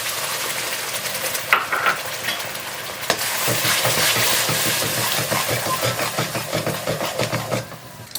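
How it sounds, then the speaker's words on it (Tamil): Tomato puree, chilli powder and ginger-garlic paste frying in oil, a loud continuous close sizzle with busy crackling and stirring scrapes throughout, a short clatter near the start. "இப்போது நம்ம இந்த போட்டிருக்கிற இந்த டொமேட்டோ பேஸ்ட்டு, இந்த காரம் எல்லாம், இஞ்சி பூண்டு பேஸ்ட் எல்லாம் எண்ணெய் பிரிஞ்சு வர வரைக்கும் நல்லா வேகட்டும்"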